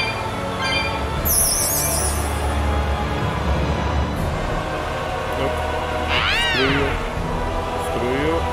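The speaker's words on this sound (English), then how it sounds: "Cats. Fishing cats." Cats meow in the video game Tales of Berseria, a few short mewing calls rising over a steady game soundscape with rumbling, whistling background noise.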